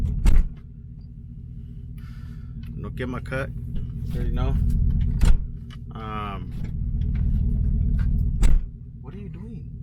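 Pickup truck fitted with an NNBS Super 10 mid pipe exhaust, a steady low rumble at idle with a couple of sharp revs, while people talk over it throughout.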